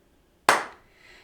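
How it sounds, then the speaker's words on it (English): A single sharp hand clap during a children's fingerplay rings out close and loud, then decays quickly into quiet. "Clap your hands"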